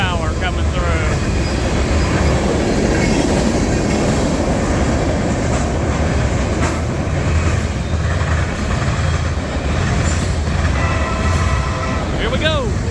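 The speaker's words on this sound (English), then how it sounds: "Like this could be some CSX power coming through." CSX freight locomotives roll past on the rails with a loud, sustained rumble, clattering wheels and engine drone that stays close and steady throughout, while a voice talks over it.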